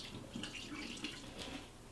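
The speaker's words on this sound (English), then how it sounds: "I'll go ahead and drip all the juice out of here" Turkey juice drips and trickles out of a cooked bird, a soft, steady wet patter with small splashy spikes, close and fairly quiet, with no voices.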